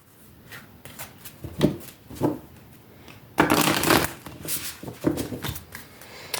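A deck of oracle cards is shuffled by hand during a cartomancy reading, with short riffling bursts and one longer louder flurry, close and without talk.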